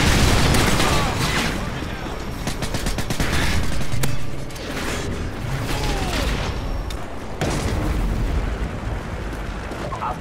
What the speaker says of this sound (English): Missile Predator alleato in arrivo.